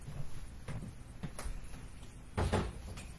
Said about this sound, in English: I'm opening the door.